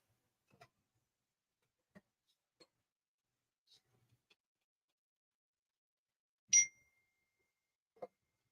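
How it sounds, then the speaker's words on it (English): A single bright phone notification ding rings out among faint scattered ticks and taps in a quiet room, short and moderately loud against near silence. "that was my phone."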